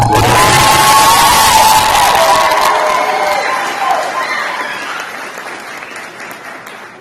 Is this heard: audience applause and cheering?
yes